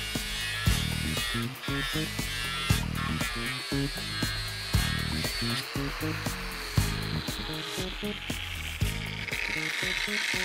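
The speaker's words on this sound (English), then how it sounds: "So to take the weld away, I'll start off with a 36 grit with a hard backing pad." An angle grinder fitted with a 36 grit ceramic fibre disc on a hard backing pad grinds a weld off carbon steel, a loud, continuous, close harsh grinding whine with rhythmic pulsing as the disc works the surface.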